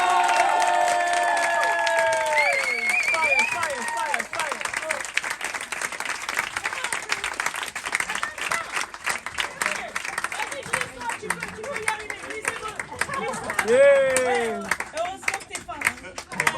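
Concert audience bursts into applause and cheering for a jazz singer, loud clapping with shouts and whistles rising over fading music, sustained and crowded with voices calling out.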